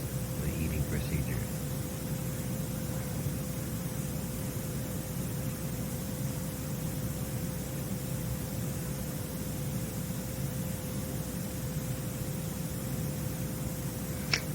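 Steady pink noise fills the whole stretch as a continuous, even hiss, with a faint constant hum and low rumble underneath and no breaks.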